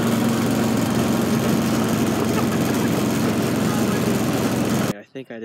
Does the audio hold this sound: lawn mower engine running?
yes